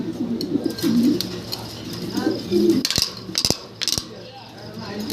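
A pair of blue-bar Spanish pigeons coo in soft repeated throaty rolls up close, while someone talks over them and a few sharp metallic clicks and rattles sound near the end.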